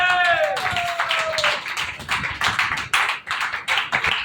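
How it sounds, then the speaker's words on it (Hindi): A church congregation at a Hindi-language worship service claps hands in an uneven, rhythmic patter, close and moderately loud, after a brief sung or sustained vocal tone at the start. "विश्वास करने वाला ताली बजा के परमेश्वर का धन्यवाद करें।"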